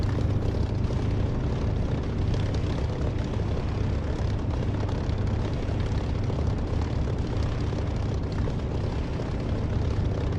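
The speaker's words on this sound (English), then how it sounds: "I want the sound of the engine to come through" A Spitfire's propeller engine droning in the DCS flight simulator, a loud, steady, rumbling roar that holds constant throughout without any talk.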